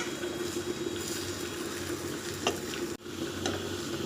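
A goat brain fry with two cracked eggs is stirred in a hot pan, a soft continuous sizzle with faint spatula scrapes and taps, quiet and close.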